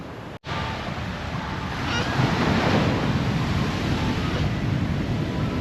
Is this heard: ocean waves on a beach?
yes